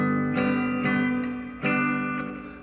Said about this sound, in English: We'll put a lot of reverb on here.